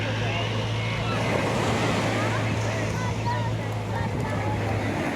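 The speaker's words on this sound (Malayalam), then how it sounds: "ഒരു തിരമാല ആടിപ്പാടി ആടിപ്പാടി വരുന്നുണ്ട്" Sea waves roll in on Chavakkad beach as a steady, close roar of surf blended with wind rumble that holds constant throughout.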